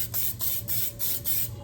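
A can of cooking spray hissing onto a cake pan before baking: five short, rhythmic bursts, each a close, bright spritz separated by brief pauses.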